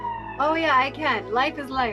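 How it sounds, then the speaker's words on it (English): A wailing emergency siren sweeps up and down repeatedly on a New York City street in Inwood, fairly loud and nearby, while people talk over it. "Sorry about the sirens."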